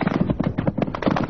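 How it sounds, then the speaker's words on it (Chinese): Rapid gunfire from troops in the 1988 Spratly Islands clash between China and Vietnam: a dense, fast run of sharp cracks, close and loud, with no speech over it. "抹国军队开枪，"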